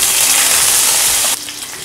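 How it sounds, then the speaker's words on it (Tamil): Curry leaves splutter in hot oil with cumin and fennel seeds, a loud, close, dense hiss and crackle that cuts off sharply, leaving faint background sound. "கறுப்புள போட்டதுனால கறுப்புள நல்லா பொரிஞ்சிருச்சு"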